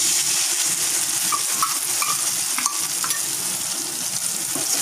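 Ground masala paste frying hard in a hot pan for Tamil-style egg masala, a loud, dense, continuous sizzle with occasional spoon scrapes as it is stirred, nobody speaking.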